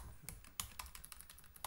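Someone types on a computer keyboard, a quick uneven run of light clicking keystrokes with a few sharper taps, close and fairly quiet, with no talking.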